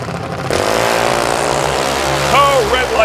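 A junior dragster makes a pass at Atlanta Dragway during the Lucas Oil Southern Nationals, its small engine giving a loud, steady drone that swells into a rising whine near the end.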